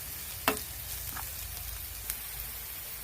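Chopped onions and green chillies fry in oil in a home kitchen pan, a steady soft sizzle with a couple of sharp clicks of a stirring utensil.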